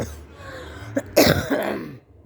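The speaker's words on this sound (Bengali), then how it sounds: "একটু কাশিও হয়েছে" A single cough bursts out close by, preceded by a faint catch of breath, followed by a brief rasping exhale.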